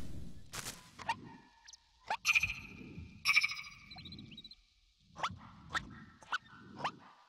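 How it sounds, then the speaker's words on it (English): A dog character in the video game Seasons After Fall barks and yips in short bursts between quiet gaps, fairly soft, with chiming game tones in the background and no speech. "It may react if you bark."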